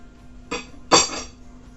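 A knife slices a croissant in half for a ham-filled croissant: two short, close, crisp crunching bursts, the second louder and longer, with quiet between them.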